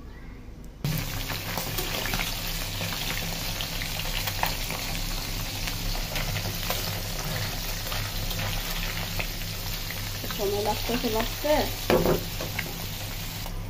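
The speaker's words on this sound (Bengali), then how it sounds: "আমার মাছ ভাজা শেষ" Small fish frying in oil in a pan give a steady, close hiss and crackle, with occasional stirring and a brief spoken remark over the sizzle.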